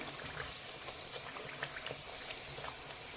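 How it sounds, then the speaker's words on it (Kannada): Wheat rava holige frying in hot oil, a faint, steady bubbling sizzle with scattered small pops and no voices. "ಚೆನ್ನಾಗಿ ಈ ಥರ ನಾವು ಎಲ್ಲವನ್ನು ಫ್ರೈ ಮಾಡಬೇಕಾಗತ್ತೆ ನೋಡಿ"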